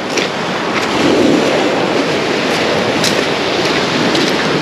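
Small sea waves break against concrete at Armyansky beach in Lazarevskoye, Sochi, in April, producing a loud, continuous roar of surf and spray with wind buffeting the microphone.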